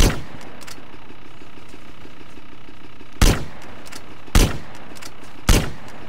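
Three sharp, loud gunshots ring out in Grand Theft Auto: San Andreas at spaced intervals, preceded by a burst of rapid shots at the start, over a steady low engine-like rumble.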